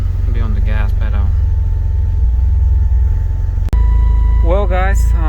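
A Mitsubishi Eclipse GSX engine idles with a steady low rumble that sounds off, while people talk over it in short bursts near the start and end.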